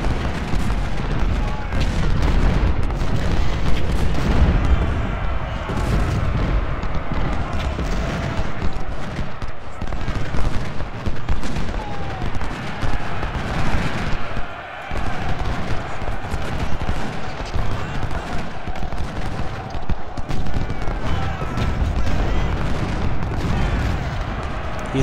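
Cannon and artillery fire rumble through a battle in the Civil War strategy game Ultimate General: Civil War, with booms and crackling volleys spread across a continuous din while someone talks over it.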